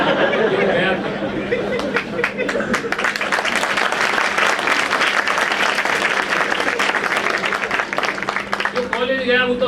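Sustained clapping from a crowd at a Bar Council of Delhi enrolment meeting, loud and continuous with some chatter and light laughter mixed in, tapering slightly as a voice emerges at the close.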